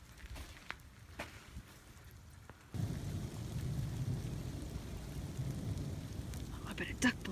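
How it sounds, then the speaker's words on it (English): Spring hailstorm with pouring rain. It starts as faint patter with scattered drops, then surges into a steady dense roar of rain and hail on a surface, with a brief louder crack near the end. "Little spring hailstorm."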